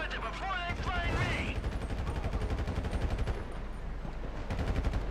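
Rapid sniper and automatic gunfire in GTA 5 crackles through the scene, a dense continuous volley of sharp shots with a brief voice near the start and steady bursts to the end.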